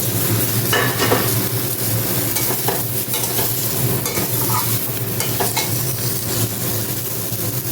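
Cut bottle gourd drops into a pan and fries with a loud, constant sizzle, stirred with repeated scraping strokes close by.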